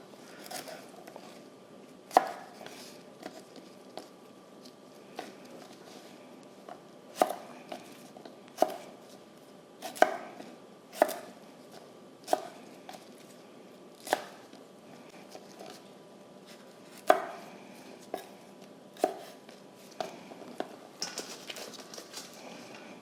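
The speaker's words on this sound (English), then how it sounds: "all I'm doing here is cutting the stems off." Stems being cut off small homegrown peppers, including orange Sugar Rush Peach, on a cutting board, with sharp knife chops landing at irregular intervals over a quiet background.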